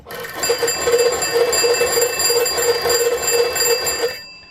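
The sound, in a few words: field telephone bell ringing from hand generator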